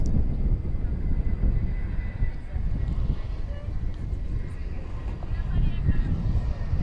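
A Delta airliner at Dallas Fort Worth airport at night makes a steady, broad jet rumble that holds through the whole stretch, with voices talking faintly over it.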